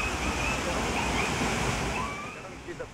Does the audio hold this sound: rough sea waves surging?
yes